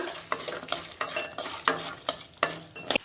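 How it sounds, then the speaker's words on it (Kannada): Red chillies, garlic and cumin frying in peanut oil, with a spoon repeatedly stirring and scraping the pan in an uneven rhythm over a soft sizzle, close up and without talk. "ನೋಡ್ರಿ, ಶೇಂಗಾ ಎಣ್ಣೆ ಒಳಗೆ ಫ್ರೈ ಮಾಡ್ಲತ್ತೀನಿ"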